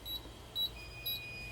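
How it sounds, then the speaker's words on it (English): A fire alarm panel signals a system component fail trouble condition with quiet, evenly spaced electronic beeps, about half a second apart, over a steady background hum. "the system component fail alarm is active at the annunciator"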